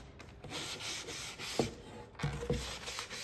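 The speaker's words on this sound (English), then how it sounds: "Just sand any spots that need to have a little bit of roughness." Hand sanding of a wooden riser for succulent plants, a soft steady rub with a few brief louder scrapes, close and alone without talk.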